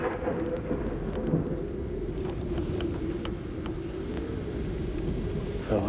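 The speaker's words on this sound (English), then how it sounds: "Suddenly, he was hit by lightning." Rolling thunder from a nearby lightning strike in a tornado-producing storm on the plains, a sustained low rumble mixed with steady heavy rain, loud and continuous throughout.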